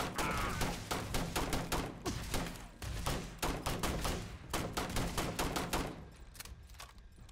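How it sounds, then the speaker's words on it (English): Rapid gunfire in the space game Starfield, dense bursts of repeated shots in quick rhythmic volleys, loud and close, tapering off near the end without talk. "Oh, I was wondering who's shooting me."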